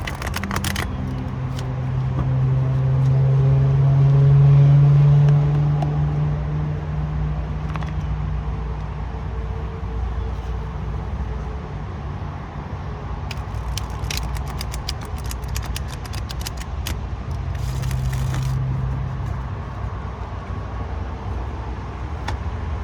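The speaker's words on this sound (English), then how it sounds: "I'm at the park, but we're also right next to the highway." Highway traffic next to a park, a continuous low rumble of passing vehicles rising and fading as cars go by, with scattered clicks and rustles nearby.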